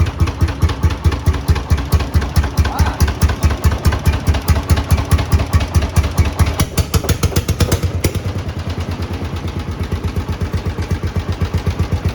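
A Lanz Bulldog 7506 tractor engine, in for washing and oil-leak repair, runs close by with a steady, loud, rhythmic thumping that slows slightly partway through; no talking.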